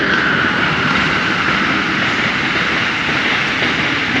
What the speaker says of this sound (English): Another train behind me.